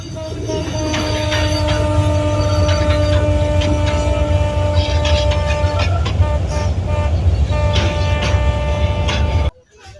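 A train bound for Sajek, Bangladesh, rumbles past with a sustained horn blast and metallic tones over heavy low-end noise, cutting off abruptly at the end.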